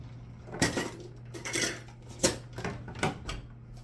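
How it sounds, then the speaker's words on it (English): Metal kitchen utensils clatter and clink in a drawer while someone rummages for a whisk, a series of sharp rattling bursts at an irregular pace, close and fairly loud against a steady low hum. "Hold on, let me get my whisk."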